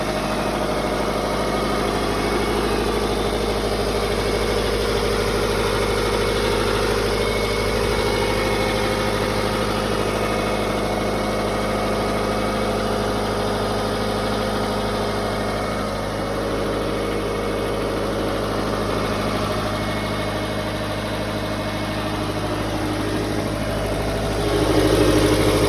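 A 2010 Subaru Forester engine idles steadily up close, a constant low rumble with a faint vibration, unbroken and alone with no talking.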